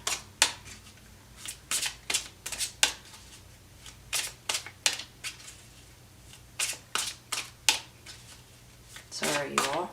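Tarot cards shuffled by hand for a single clarifying draw: a rapid run of crisp riffling bursts in irregular clusters, close and fairly loud, with a brief voice at the very end.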